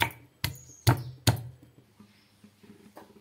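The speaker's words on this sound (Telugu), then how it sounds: "4 వెల్లుల్లి రెబ్బల్ని లైట్గా స్మాష్ చేసుకోండి." Four garlic cloves lightly smashed on a board, three sharp, close thuds in quick succession, then soft scraping and handling noises.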